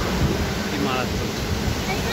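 Waterfall at the Sittong viewpoint, a dense, continuous rushing roar that fills the whole stretch at a steady, fairly loud level.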